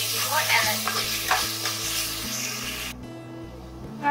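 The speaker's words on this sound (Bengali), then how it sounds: "মশলাটি কষানো হয়ে গেছে" Whole spices such as bay leaf, cinnamon, cloves and cardamom frying in hot oil: a loud, close, hissing sizzle with stirring scrapes that cuts off abruptly after about three seconds to a low hum, no talking.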